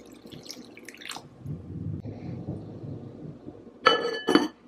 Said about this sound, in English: I think I'm going to add more water.